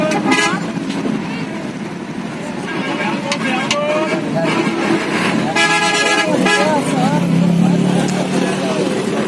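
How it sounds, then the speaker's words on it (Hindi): A bus pulling out of a bus stand, engine rumble in busy road traffic with several horn toots and honks from passing vehicles, loud and close, with voices talking in the background. "गाड़ी जो है वो अड्डे से निकल चुकी है"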